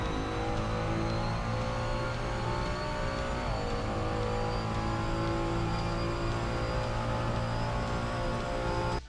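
A Ferrari 296 GT3 race car in Assetto Corsa roars at full throttle on the Red Bull Ring, a steady, loud engine drone with rising pitch and a brief dip around a gear change, continuous and alone without talk.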